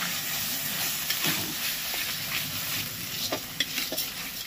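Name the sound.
paneer, cauliflower and peas being stir-fried (koshano)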